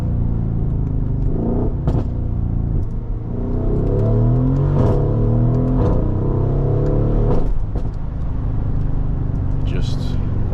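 Loud, steady rumble of an 800 hp Mercedes-AMG GLE 63S SUV engine, climbing in pitch as it revs and accelerates, with someone talking over the sound.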